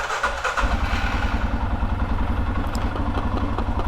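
A mud-ready factory ATV four-wheeler engine starts up and settles into a loud, rhythmic thumping idle close by, with a steady clattering pulse.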